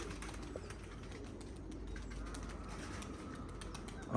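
Soft pigeon cooing sits low under a constant wash of outdoor background noise, with a brief louder knock right at the end.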